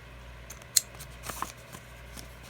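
Scissors trim old book pages in a few quick, quiet snips, faint and close, with soft paper rustling between cuts.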